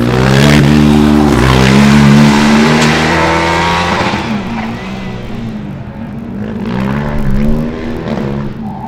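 A Formula Student race car from Ravensburg, car number 1, drives an autocross course, its engine revving loudly and shifting pitch as it accelerates and brakes, fading briefly then climbing again close by.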